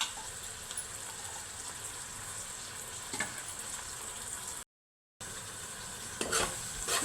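Curry leaves and green chili pieces sizzling in hot oil in a pan for chicken curry, a steady close fry with occasional stirring scrapes and a brief gap in the middle.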